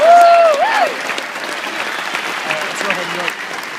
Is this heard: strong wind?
no